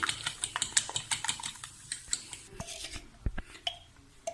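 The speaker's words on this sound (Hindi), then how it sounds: "अब इसे हम एक फोक की मदद से मिक्स कर लेंगे" A fork mixes chopped chicken, vegetable and onion burger mixture in a bowl with rapid, light clicking taps against the dish. The taps come close and fairly soft, then thin out into a few scattered scrapes.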